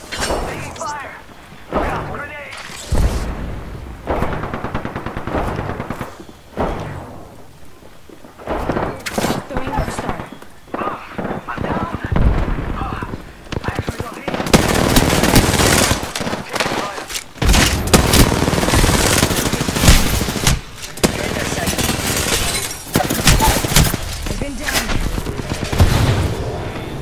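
Heavy video game gunfire in a squad shooter, with rapid bursts and loud crackling volleys alongside grenade blasts, dense and continuous through most of the stretch, while players shout callouts over the din.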